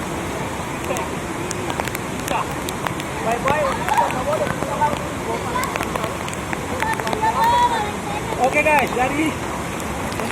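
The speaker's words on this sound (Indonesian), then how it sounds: "Hujannya masih deras guys" Heavy rain pours onto the water at a busy public bathing place, a steady hiss of drops under people talking and shouting nearby.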